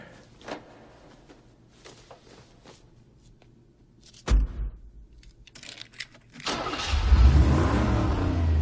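Engine of the hot car driven by the lead character in the film Road House, later blown up on screen: light taps and a thump, then a loud, close engine roar rises and holds through the final seconds.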